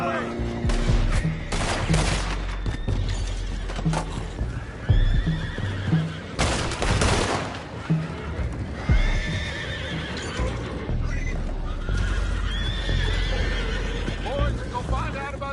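Horses in Red Dead Redemption 2 whinnying several times amid clip-clopping hooves and bursts of gunfire, with people shouting and talking over the action.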